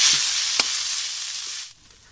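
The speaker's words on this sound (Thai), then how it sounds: "ผัดพริกแกงหอม ๆครับ" Hand-pounded chili curry paste stir-fried in a hot pan, a loud, steady sizzle with a brief scrape of stirring, fading quickly toward the end.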